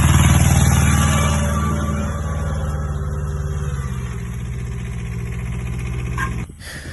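Kubota B1-10 mini tractor pulling a two-furrow plough, its small engine droning steadily and loud close by, easing slightly midway before cutting off abruptly near the end.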